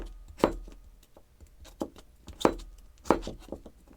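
A knife slicing a cucumber on a cutting board, with several crisp, sharp cuts landing in an uneven rhythm, close and clear with no talking.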